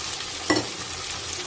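Egg frying in a pan with browned vegetables for a Maggi noodle dish, a steady close sizzle with a brief louder scrape or crackle partway through, no talking.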